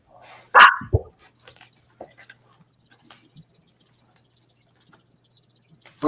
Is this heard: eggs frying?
no